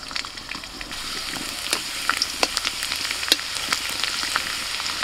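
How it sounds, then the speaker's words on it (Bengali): Chopped garlic sizzles in white oil in a wok, a steady close crackle broken by a few sharp metallic clinks and scrapes, without any talking. "রসুন কুচিটা ভাজা হয়ে গেছে"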